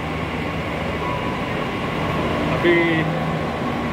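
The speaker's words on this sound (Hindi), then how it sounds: "सिविल लाइन स्टेशन पे उतर गए मेट्रो से।" A steady, loud rumble of a Delhi Metro train fills the platform at Civil Lines station, with a brief tonal chime near the end and a voice speaking over the noise.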